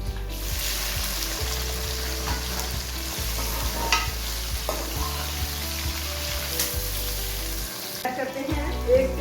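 Onions sizzle steadily in a pan for masala bhindi, with bursts of stirring and scraping that come in rhythmic strokes over a soft, continuous frying hiss.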